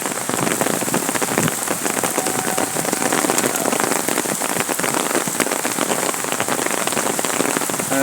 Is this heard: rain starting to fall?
yes